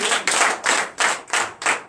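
A church congregation at a Sunday worship service in Benin claps in unison, six loud rhythmic bursts of clapping in a steady beat, each lasting about a third of a second.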